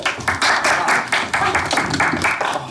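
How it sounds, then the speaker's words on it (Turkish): Wedding guests applaud as the registrar arrives at a Turkish wedding ceremony, steady close clapping that swells in pulsing waves for a few seconds. "Alkışlarınızla nikah memuru geliyor."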